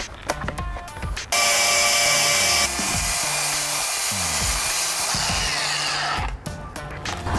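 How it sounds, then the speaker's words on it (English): An angle grinder strips the coating off the frame of a new Ford F250 truck, a loud, harsh, sustained whine lasting several seconds, framed by clanks and handling noises before and after. "go ahead and grind off the coating on the frame"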